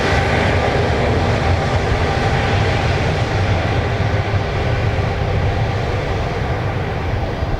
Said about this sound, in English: That was your WestJet from Toronto, your Max 8